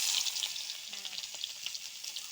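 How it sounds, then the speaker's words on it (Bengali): Onion and cumin seeds sizzle in hot tempering oil, a steady bright crackling fry close up with a few soft stirring clinks, no voices. "এই দেখো ফোড়ন দিয়েছি আর এই যে জিরে দিচ্ছি বেশি কিছু দিব না পেঁয়াজ দিচ্ছি"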